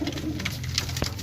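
Pigeons coo softly at a pigeon sale, a few low throaty calls close by over a faint background hum, without talk.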